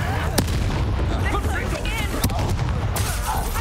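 Confringo spell blasts in Hogwarts Legacy during a fight at Feldcroft, a few sharp bangs breaking through a dense roar of combat and shouting voices.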